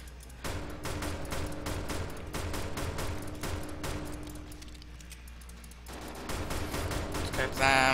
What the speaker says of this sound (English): I'm gonna shoot randomly.